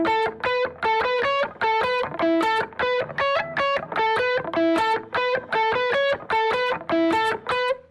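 An electric guitar plays a dry, clean, repeating rhythmic riff of plucked notes with no echo trailing behind, steady and close for several bars.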